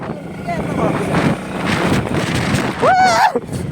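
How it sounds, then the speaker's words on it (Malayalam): Wind gusting across an open outdoor spot beside a main road, a steady broadband rumble buffeting the microphone throughout, with voices talking over it. "കാറ്റാട്ടോ കാറ്റ് വീശിയോ"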